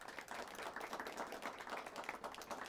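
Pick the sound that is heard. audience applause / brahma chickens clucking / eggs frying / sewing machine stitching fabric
audience applause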